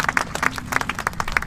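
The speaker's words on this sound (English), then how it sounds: "Round of applause for our state government." Brief scattered clapping from an audience at a surf life saving club construction event, a handful of distinct claps heard close and fairly loud over about a second and a half.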